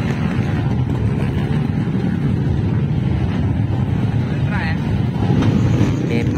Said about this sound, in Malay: Free untuk try test motor di dalam track.